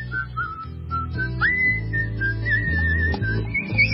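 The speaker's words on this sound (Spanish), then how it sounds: "Marisa, me colgué con el silbido, sí." A person whistles a sustained, wavering melody, loud and close, over steady low backing tones for about four seconds, with no talk.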